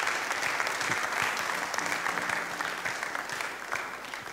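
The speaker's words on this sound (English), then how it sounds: "Young Nigerians, can we please give her another round of applause?" An audience of young Nigerians at a youth forum gives a woman another round of applause, a loud, sustained wave of clapping that tapers off slightly toward the end.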